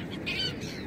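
A seagull snagged on a fishing line at New Brighton beach, Christchurch, gives a short, high squawk over a soft, scratchy flutter. The sound is close and brief.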